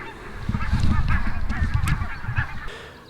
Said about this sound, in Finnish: Hanhia ainakin on.